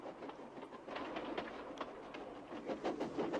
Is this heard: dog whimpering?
no